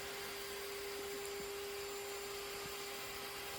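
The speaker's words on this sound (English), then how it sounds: "So I switched to my straight cutting bit and decided to finish up the cut" A router fitted with a straight cutting bit cutting wood freehand on a micro-scale bass guitar build, a steady high-pitched motor whine with constant loud hiss throughout.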